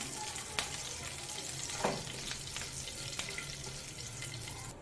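Onions fry in hot oil with curry leaves and dried chili for raw banana aviyal, a steady, fairly quiet sizzle with occasional stirring scrapes and taps, heard alone.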